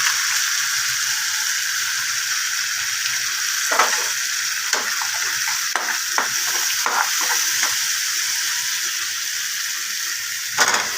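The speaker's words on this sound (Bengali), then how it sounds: "আলুগুলো দিয়ে মশলাগুলো ভাজা হয়ে গেছে" Potatoes tossed with Maggi masala spices fry in a pan with a constant soft sizzle, while a spoon scrapes and clinks against the pan in a string of short, irregular strokes, close and unaccompanied by talk.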